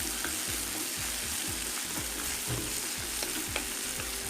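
Chopped okra and onions sauté in a pan for sambar, giving a constant dense sizzle. A spatula scrapes through it in a regular rhythm about twice a second.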